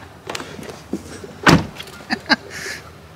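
A pickup truck door thumps shut outdoors in a backyard: a few small rattles and clicks, one solid slam in the middle, then two lighter knocks, fairly close with no talking.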